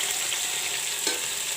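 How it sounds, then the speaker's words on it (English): Radish, cauliflower, cabbage and potatoes land in a hot pot of browned onions, giving a steady, close broadband sizzle that flares briefly partway through. "Now I will put in the vegetables."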